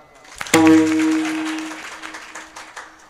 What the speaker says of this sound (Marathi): जर तुम्हाला चांगलं वाटलं तर टाळी वाजव जा बरं काय